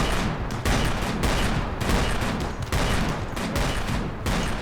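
Sustained rapid gunfire from a video game battle against enemies in a fortress level, loud bursts of shots repeating almost continuously with brief gaps, no talking.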